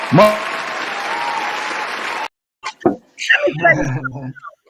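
Audience clapping for Darnell at a Valentine's Day relationship talk show, a steady wash of applause for about two seconds that cuts off abruptly, followed by voices talking.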